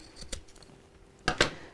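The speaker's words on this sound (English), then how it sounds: "So now I can cut off the ends of the zip." Scissors snipping off the ends of a zip on a fabric cosmetic bag, two or three short crisp cuts close by with quiet handling in between.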